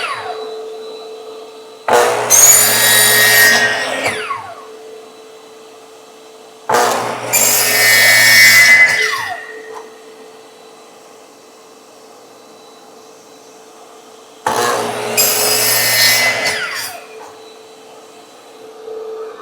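In a woodworking shop, a saw cuts wood in three separate loud bursts of a few seconds each. Between them, a steady hum from a shop vacuum feeding a homemade recycled-material cyclone dust collector carries on.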